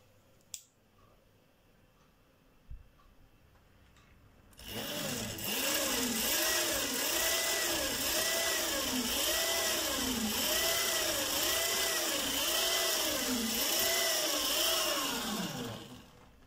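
A 1000W electric scooter motor, converted from lead to lithium battery, spins up in second gear after a few quiet clicks, then whines steadily and loudly with a rhythmic wavering pulse for about twelve seconds before cutting off.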